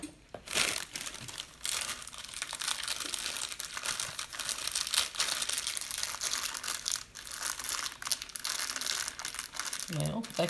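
Crinkling and crushing of a plastic packet or bag being pulled and wrestled open in a home kitchen while making meat loaf, with continuous rustling bursts and a voice talking over it.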